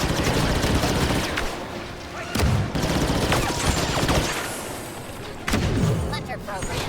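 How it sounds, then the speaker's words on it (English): A grenade goes off in the video game Dragon Age: The Veilguard, one of several loud bursts of gunfire-like blasts and heavy thuds over a dense, continuous battle din. "Grenade out."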